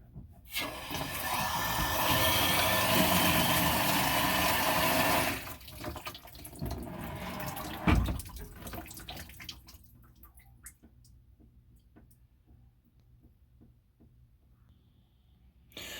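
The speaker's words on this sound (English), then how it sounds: "with the expansion tank now removed, I'm going to turn the valve on and see if we get any debris." Water gushes loudly from a household pipe valve after an expansion tank has been removed, a rushing flow lasting several seconds before cutting off to faint trickles and drips.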